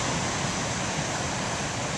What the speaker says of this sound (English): I just want to hear the sound of the waves